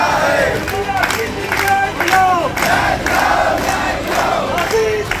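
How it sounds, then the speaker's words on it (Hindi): Outside a minister's house, a crowd of protesters chants slogans in loud, rhythmic bursts of many voices, surging and repeating without pause throughout. "नारेबाजी कर रही है।"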